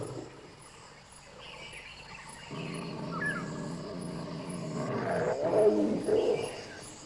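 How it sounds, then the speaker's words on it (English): A deep, rumbling growl builds and swells from a large big cat, heard fairly close over a steady hum of insects. "tiger's growls alarm a swamp partridge and her brood"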